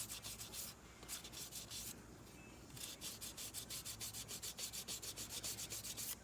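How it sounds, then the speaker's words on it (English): Rhythmic light sanding strokes on polymer clay with wet sandpaper, soft and wet-sounding, rubbing back and forth in quick repeated passes, close up and alone. "whenever I'm just lightly sanding like this, I'll just wet the sandpaper down with the spray bottle."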